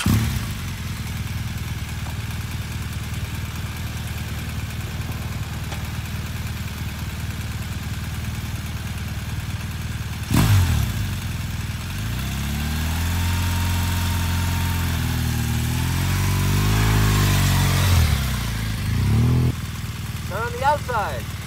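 A motorcycle engine idles steadily, then revs up with rising and falling pitch as the clutch is eased out for a sharp, full-lock turn, loud and close throughout.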